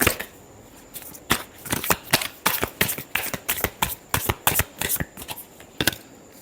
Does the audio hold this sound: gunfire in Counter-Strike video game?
no